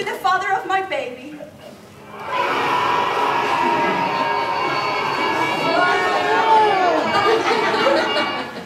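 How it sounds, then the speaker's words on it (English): At a school drama club stage performance of The Hunger Games, a young audience erupts into loud cheering and shouting after a moment of speech, sustained and excited to the end. "The crowd goes even wilder than before."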